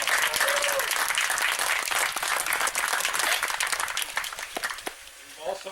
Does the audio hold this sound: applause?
yes